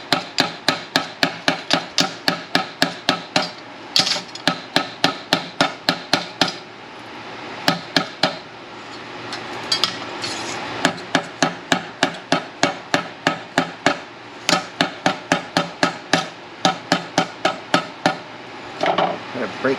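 A hammer taps rapidly on a welded sheet-metal patch in a car fender during repair, sharp metallic strikes coming in quick, steady bursts with brief pauses, close and loud.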